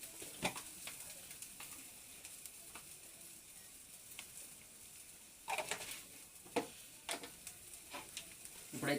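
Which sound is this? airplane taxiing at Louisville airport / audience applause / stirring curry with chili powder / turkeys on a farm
stirring curry with chili powder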